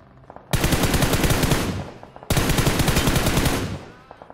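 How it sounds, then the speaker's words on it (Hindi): Two long, loud bursts of automatic gunfire in the video game PUBG Mobile, each a rapid rattling stream of shots lasting over a second, separated by a short pause, with faint quieter pops before the first. "यहाँ पर मेरे को कहीं से गन के साउंड आ रहे थे"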